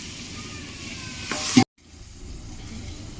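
Cauliflower and potato curry with green chillies, salt and turmeric sizzling and being stirred in a pan, a steady close hiss that swells briefly before cutting out, then quieter sizzling resumes.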